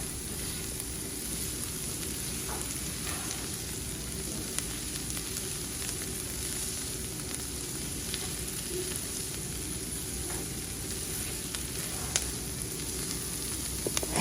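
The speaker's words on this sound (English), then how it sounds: "I'm going to add a little bit of garlic paste for flavor, and I'm going to mix that all in together" Garlic paste stirred into softened bell peppers in a hot pan, giving a steady, even sizzle with faint scraping from stirring throughout, no voices.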